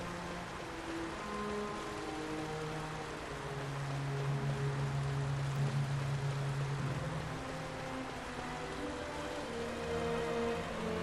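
Continuous rain in Final Fantasy XII, a dense steady hiss with low rumbling tones beneath it, even and unbroken throughout, with no talk.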